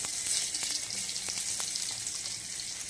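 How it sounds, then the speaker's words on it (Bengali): Prawns fry in a pan for a pointed gourd (potol) curry, making a steady, close, hissing sizzle with scattered faint pops and clicks throughout. "আমি একটা চিংড়ি মাছ দিয়ে পটল দিয়ে বানাবো এটা আমি একটু ভেজে নিচ্ছি"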